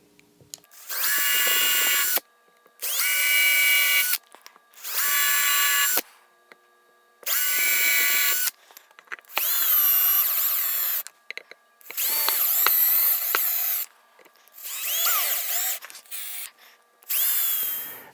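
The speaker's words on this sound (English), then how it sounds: "I am going to use a drill" A power drill drills screw holes during guitar assembly, whirring in repeated bursts of a second or two with short pauses between, loud and close, pitch shifting as it bites.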